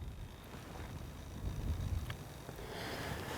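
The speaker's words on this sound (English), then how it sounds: "the wind is a little bit choppy today. We've got a lot of gusts." Gusty wind buffets the microphone with a low, rumbling roar that swells and eases over a few seconds.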